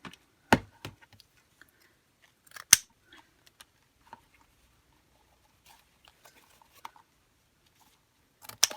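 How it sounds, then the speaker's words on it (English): Scissors snip ribbon for a Cricut-made Christmas gift in a few sharp, close cuts separated by quiet gaps, with faint handling noises in between. "Let's cut this ribbon."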